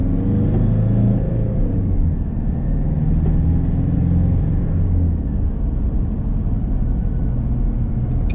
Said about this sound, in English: Kind of hear the turbo, I guess, a little bit.